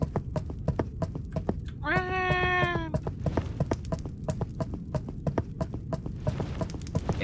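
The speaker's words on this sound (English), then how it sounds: "Interesting running sound." Rapid, evenly spaced running footsteps in the horror video game Verho: Curse of Faces, a steady hoof-like clatter throughout with a brief harmonic tone partway through.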